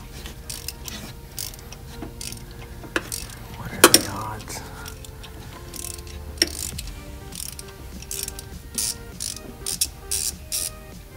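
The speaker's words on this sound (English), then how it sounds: "we drilled the hole, inserted this bolt remover. It's got the reverse thread, so as you turn, it sucks in and tightens up" A reverse-thread bolt remover being turned by hand to back a broken stud out of its drilled hole, giving a run of close metallic ratcheting clicks and scrapes with one sharper clatter partway through.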